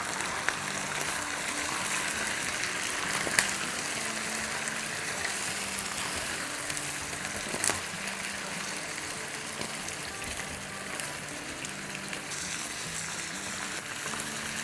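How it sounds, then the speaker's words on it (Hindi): Oil sizzles steadily in a pan as chicken fries with yogurt for hara chicken tikka masala, an even hiss with a few faint pops and no talk. "तो यहाँ देखें ऑयल सिजल कर रहा है"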